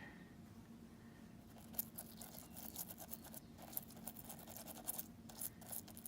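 A toothbrush scrubs ink from a polyhedral die in quick, close bristly scratching strokes, quiet and irregular, with no one talking.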